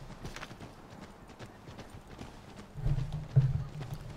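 A horse clip-clops away in Assassin's Creed 3, soft hoofbeats close by that grow a little louder near the end, with no speech over them.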